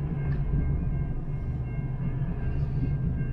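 A train rolls past a railway crossing, a steady close low rumble and rattle of wagons, loud and continuous with no voices.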